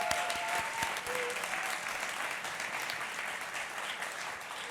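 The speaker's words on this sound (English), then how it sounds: "A round of applause, actually." A school audience at a Martin Luther King celebration gives a steady, dense round of applause, an even wash of many hands clapping at moderate volume, with a few brief tonal sounds near the start.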